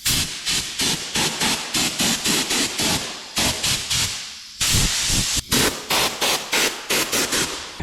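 Compressed air blasts dirt out of the knotters on a hay baler in repeated short, loud hissing bursts, closely spaced with brief gaps between them.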